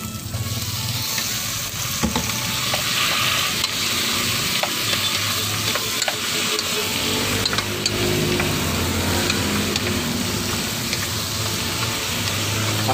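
Pork frying in a pan with garlic and onion for Bicol-style igado, a loud steady sizzle with occasional stirring clicks running throughout, close up and uninterrupted.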